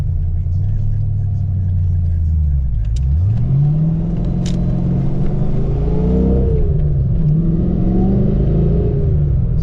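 A project car idles and pulls through slow traffic on a stock exhaust with stock headers and catalytic converters, a loud close low rumble with gentle rises and falls in engine pitch.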